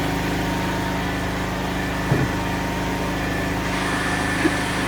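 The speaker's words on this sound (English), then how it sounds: "Got a loud generator going on." A loud generator runs steadily on an outdoor bricklaying site, a constant mechanical drone filling the whole stretch with only slight bumps of other site noise.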